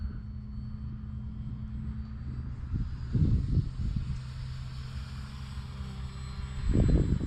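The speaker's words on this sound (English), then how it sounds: "This is just one sweet flying plane right here" An E-flite Valiant 1.3m radio-controlled plane flies overhead with a steady electric whine and propeller drone, swelling louder as it passes nearer, with gusty wind rumble at intervals.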